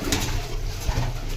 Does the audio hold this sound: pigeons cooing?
yes